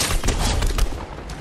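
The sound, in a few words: gunfire in a video game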